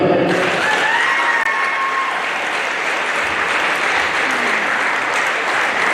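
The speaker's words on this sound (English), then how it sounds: "Clap it up." A crowd at a college men's basketball game applauds steadily for honored graduating sophomores. The clapping is loud and dense and holds unbroken for several seconds.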